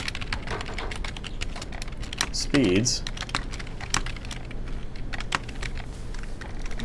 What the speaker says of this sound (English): all I have to do is when I press the keys for those